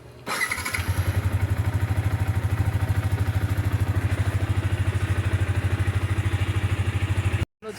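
A daily-commute service motorcycle idles, its engine thumping in a fast, even rhythm close to the microphone before cutting out abruptly near the end.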